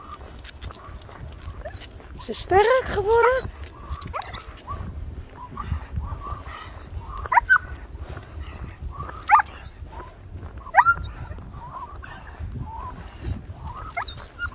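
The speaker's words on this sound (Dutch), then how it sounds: "Zij gaat blaffen." A dog gives several short barks and whimpers at intervals, fairly close, while someone speaks softly in between.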